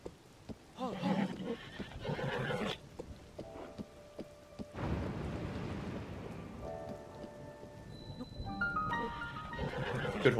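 Whinnying from a horse in the video game Zelda: Tears of the Kingdom, heard over game rain and a thunder rumble, with tonal game music chimes later and a brief voice.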